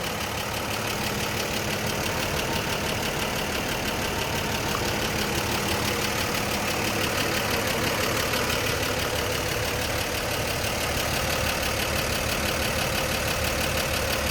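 A 1949 Chevrolet 3600 pickup with a mid-50s 235 engine idles steadily, a dense, even rumble held close and constant with no talk.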